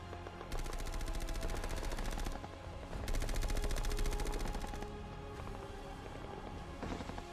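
Bursts of rapid machine-gun fire and gunshots from the Falklands battle on Mount Two Sisters, loud and dense, coming in two long volleys with a quieter rattling stretch between and after them.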